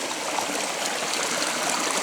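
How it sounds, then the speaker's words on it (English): Creek water flowing steadily at a trail crossing on the Superior Hiking Trail in Minnesota, a continuous close, loud rushing and trickling with no voices. "Just another one of the hundreds of creek crossings we've been on already."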